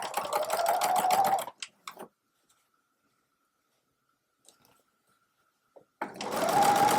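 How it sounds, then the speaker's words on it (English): Sewing machine stitching a drawstring bag opening closed, two close bursts of rapid motor-driven needle chatter separated by a quiet pause with faint handling clicks. "I generally do it by sewing machine."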